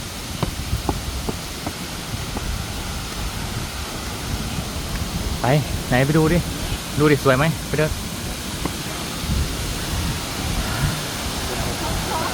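Rushing water at Sarika waterfall gives a constant broadband roar throughout, while nearby voices chatter over it in short bursts.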